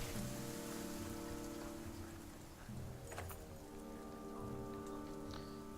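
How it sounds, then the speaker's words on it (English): Heavy rain falls steadily in the video game Banner Saga 2 as clansmen and varl slog through mud, a continuous dense hiss running unbroken beneath a sustained musical score. "The clansmen and varl follow you through the worst rain and mud you've experienced."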